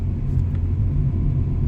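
Steady, dense low rumble from inside a 1998 Acura Integra GS-R, front-wheel drive, driving over snowy roads, constant and close throughout with no voices.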